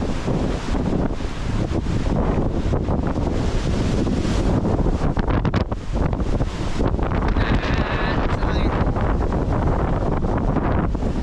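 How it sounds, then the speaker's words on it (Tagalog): Loud, sustained wind gusts batter the microphone throughout on a cycling trip through Karzakkan forest, Bahrain, a dense roaring rush with brief dips in intensity. "Lakas ng hangin."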